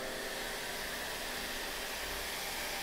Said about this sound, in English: A quick blast for the hairdryer.